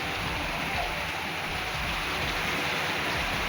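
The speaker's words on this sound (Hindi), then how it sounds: "कितनी तेज बारिश आ रही है" Heavy monsoon rain pours down outdoors in a continuous dense roar of drops on surfaces, steady and close throughout with no pauses.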